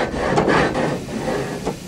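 Water-powered sawmill at the Gampen Pass with an iron flywheel driving a frame saw two floors above, heard as a steady mechanical rasping and rubbing of the saw through wood, with faint rhythmic swells and no talk.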